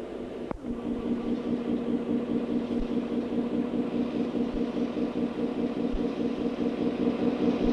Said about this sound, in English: engine idling behind us here. We're sitting in the cab.